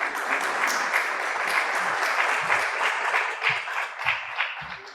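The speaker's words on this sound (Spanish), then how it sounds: "La recibimos con un fuerte aplauso." An audience at an engineering seminar on a geotechnical code applauds to welcome a speaker, a steady, full round of clapping from a sizeable room, with a few lower thumps near the end.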